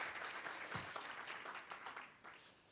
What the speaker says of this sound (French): Applaudissez-vous, c'est très bien.